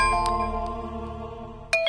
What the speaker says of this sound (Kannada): ಶೈಲು ಫೋನ್ ಮಾಡ್ತಿದ್ದಾಳೆ.